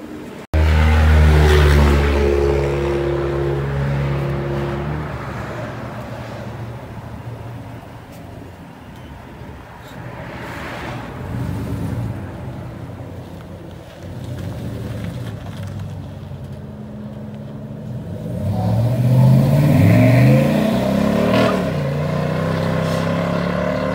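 A 2019 Chevy Silverado with a 5.3L V8 and Flowmaster Super 10 dual exhaust with angle-cut tips revs up loudly, a deep burbling rumble that swells, drops to idle, then climbs again in a strong final rev.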